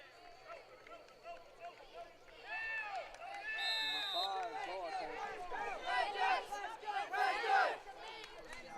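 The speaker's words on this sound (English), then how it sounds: "I hope y'all can hear our cadets cheering on their fellow cadets." Cadets cheer and chant from the stands at a high school football game, a distant crowd of young voices rising into rhythmic shouted chants and whoops that swell louder toward the end.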